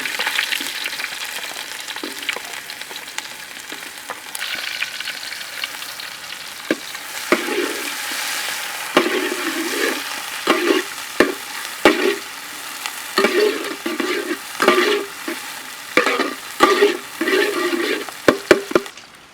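Ginger, green chili and onion fry in hot coconut oil in a pan, a constant close sizzle broken by repeated scraping and stirring strokes that grow busier toward the end, with no talking.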